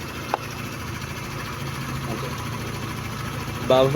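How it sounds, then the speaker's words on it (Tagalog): A Motorstar Easyride 150 motorcycle engine idles steadily at close range, a low even rumble with a couple of brief clicks and a short clatter near the end. "umaandar yung makina na pwede mong switch yung seat mo nang di namamatay yung makina"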